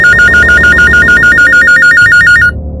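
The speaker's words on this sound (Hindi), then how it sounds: "हमें फिर एक फोन कॉल आया।" A telephone rings loudly and steadily in a fast repeating electronic trill, with a music bed under it, then cuts off abruptly near the end.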